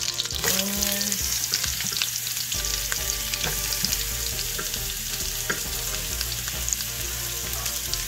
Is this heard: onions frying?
yes